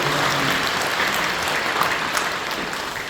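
A church congregation applauds during a Thanksgiving Sunday worship service, giving steady, even clapping that fills the hall throughout without any speech.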